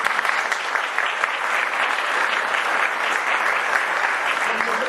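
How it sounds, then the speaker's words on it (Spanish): Audience applause at a closing socialization event, a bright, even roar of many hands clapping that stays at steady strength for the whole span with no speech. "ustedes se merecen un gran aplauso, y mucho más que un gran aplauso."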